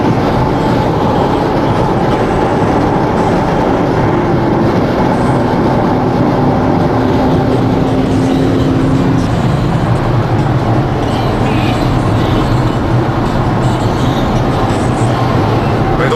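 An Audi Q7 4.2 TDI driven fast on a German road, a steady loud rumble of engine, tyre and wind noise heard from inside the cabin, continuous and unbroken for the whole stretch.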